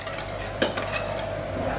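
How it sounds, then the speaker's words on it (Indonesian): Spoon stirring a mung bean and agar mixture with a pinch of salt, a soft continuous scraping swirl with one brief clink, close and steady with no talk. "Kita aduk rata kembali"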